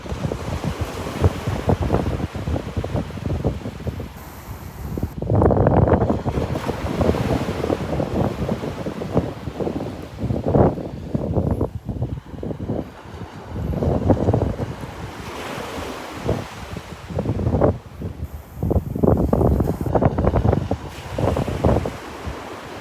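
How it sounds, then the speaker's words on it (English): Strong wind blowing across a beach in North Naples, Florida, buffeting the microphone in loud gusts over steady breaking surf, continuous and close, with no voices. "Listen to that wind."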